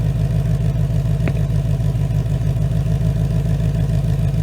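A rebuilt 2019 Mustang engine, freshly broken in on BR30 oil, idles steadily and loud at close range after its first start, a smooth even rumble with a faint rhythmic pulse and one brief tick partway through.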